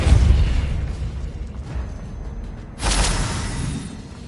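Spell impacts in Hogwarts Legacy land as deep, booming bursts, a heavy thump at the start and another strong whooshing hit near the end, loud and close with rumbling tails.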